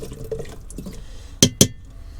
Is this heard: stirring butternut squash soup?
yes